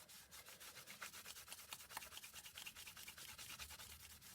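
A microfiber cloth rubs wax off a surface in quick, even back-and-forth strokes, a soft rhythmic swishing heard close and faint, with no talking.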